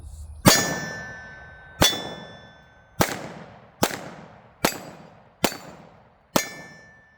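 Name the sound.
PSA Dagger pistol double shots hitting large steel targets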